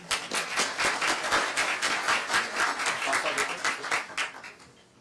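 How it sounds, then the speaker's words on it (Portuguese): Audience applause for the doctor after a talk on machine learning, dense clapping from many hands that stays strong for about four seconds, then fades out quickly at the end. "Uma salva de palmas aí para o doutor."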